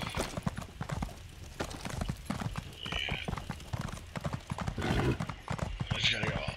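Horse hooves clip-clop in a rapid, steady rhythm while riding in the Morrowind video game, close and continuous, with occasional other game sounds and talk over it.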